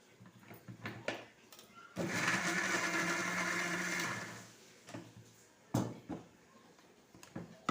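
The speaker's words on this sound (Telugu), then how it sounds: "కలిపిన తర్వాత ఇక మిక్సీకి వేస్తాను." A mixer grinder blends tomato chutney in a loud whirring burst of about two seconds, set between clattering knocks and handling sounds of the jar before and after.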